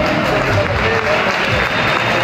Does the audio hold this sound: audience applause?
yes